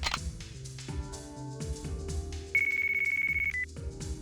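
A cell phone ringtone rings in Yakuza 3 Remastered, a steady electronic tone lasting about a second over a layered game music background.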